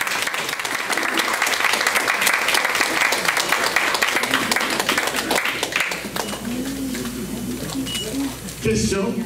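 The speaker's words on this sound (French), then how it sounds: "nous devons aussi vous demander d'applaudir la mère et la sœur de Jimmy qui sont avec nous" An event audience applauds the mother and sister of Haitian Hollywood actor Jimmy Jean Louis, with dense sustained clapping that fades after about six seconds into quieter room sound and a brief voice near the end.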